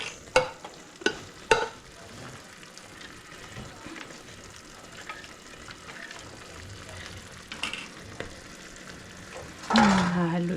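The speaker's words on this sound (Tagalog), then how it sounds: "Hahaluin ko na siya para malagay yung sabaw" Patola and cream mushroom stirred in a pan, soft sizzling with sharp utensil clinks at the start and a brief pour of liquid near the end.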